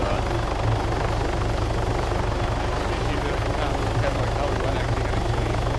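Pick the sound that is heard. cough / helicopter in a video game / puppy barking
helicopter in a video game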